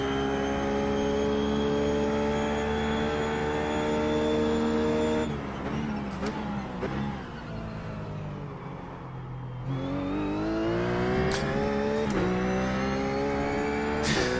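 Ruf GT3 race car lapping Sebring in iRacing, a loud steady engine whine that drops through a downshift and braking midway, then climbs again in pitch as it accelerates out, with quick gear changes and no talk.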